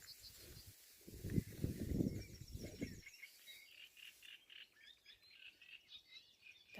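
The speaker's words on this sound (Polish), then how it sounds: "cisza, tylko ptaki." Small birds chirp and twitter softly in a calm outdoor setting, with a brief low rumble early on before the birdsong continues alone.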